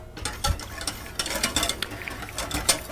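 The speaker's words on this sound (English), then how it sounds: "Now I can whisk my egg yolks into my milk" Egg yolks whisked into milk in a bowl, a quick rhythmic run of light scraping clicks and taps of the whisk against the bowl, close and moderately loud with no talk.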